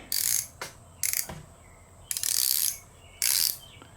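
A Gearwrench 1/4-inch drive ratchet with a bent handle clicks in four quick, close bursts of rapid ratcheting, each separated by a short pause, with no talking.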